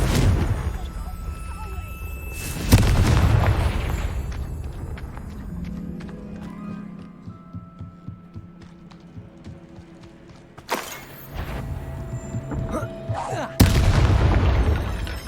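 Confringo spell blasts in the Hogwarts Legacy video game, heavy booming explosions at the start and again near the end, with quieter rattling and game sounds between them.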